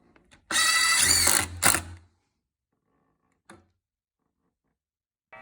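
A DeWalt DCF923 3/8-inch cordless impact wrench runs in a loud, close burst of rapid hammering whir lasting about a second and a half, with a brief second pulse, then quiet with a faint click.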